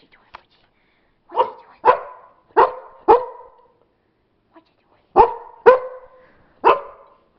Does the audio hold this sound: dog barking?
yes